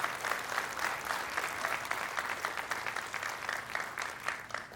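A large crowd at a 2023 commencement ceremony clapping steadily, a sustained wash of applause heard from a moderate distance, even in level throughout with no voices over it.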